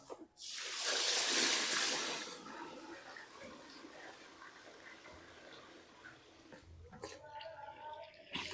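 Lentils being washed by hand in water for haleem, with a brief rush of pouring water followed by soft swishing and sloshing, faint and close.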